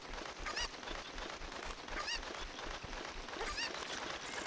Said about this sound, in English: I'm gonna carry the cuckoo with me.